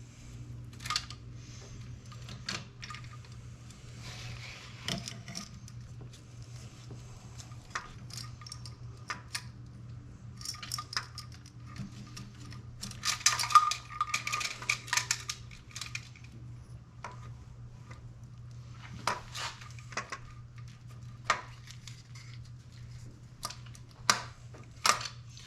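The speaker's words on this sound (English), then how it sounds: "I'm going to have to move the camshaft with a wrench to get that to slide in." A wrench turns the camshaft on a GM Ecotec engine during timing chain work, making sparse metallic clicks and ratcheting ticks over a faint steady hum, close and fairly quiet.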